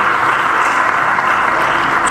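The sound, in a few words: audience applause for panelists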